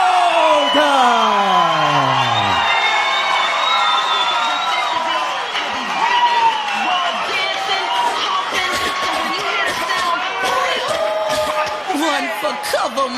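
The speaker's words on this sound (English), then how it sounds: "The crowd ecstatic to see him come out." A boxing crowd cheers and whoops loudly as fighter Paul Loga comes out, with sustained roaring, shouts and whistles throughout and an announcer's voice carrying over the noise.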